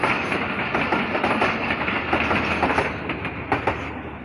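The Millat Express of Pakistan Railways passes at speed, a loud, continuous rolling roar with repeated wheel clacks over the rails, heard close to the track.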